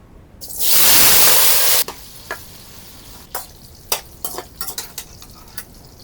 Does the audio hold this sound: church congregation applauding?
no